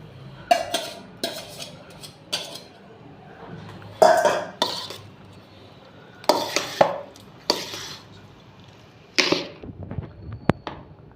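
A spoon stirs curd into cooked rice for Andhra-style curd rice, scraping and clinking against the vessel in irregular bursts with short pauses between them. Close and moderately loud, with no talk.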